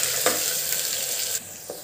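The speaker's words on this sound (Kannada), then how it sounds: "ಕೊರ್ಬೇವಿನ ಸೊಪ್ಪು ಹಾಕ್ತಾಯಿದ್ದೀನಿ. ಈರುಳ್ಳಿ ಸಣ್ಣದಾಗಿ ಹಚ್ಚಿಟ್ಟಿರೋದು 2 ಈರುಳ್ಳಿ ಹಾಕ್ತಾಯಿದ್ದೀನಿ. ಎಲ್ಲ ಫ್ರೈ ಮಾಡ್ಕೊಳ್ಳಿ." Chopped onions and curry leaves frying in hot oil with mustard seeds, a loud, continuous close sizzle with a few brief stirring scrapes breaking through the crackle.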